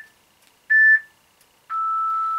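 A workout interval timer for an at-home Tabata HIIT session sounds two clean electronic beeps in near silence. The first is short and the second is a long sustained tone.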